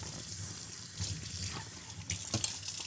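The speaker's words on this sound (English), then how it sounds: "And I rinse it until I stop seeing suds." Tap water runs continuously into a hydration reservoir as it is rinsed, a steady splashing stream with shifting gurgles and a few brighter sloshes near the end.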